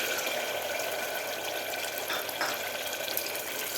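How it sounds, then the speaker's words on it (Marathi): Masala spices fry in oil in a pan over medium heat, giving a steady, close sizzling hiss with light stirring scrapes. "आता आपल्याला व्यवस्थित हे मसाला परतून घ्यायचा आहे"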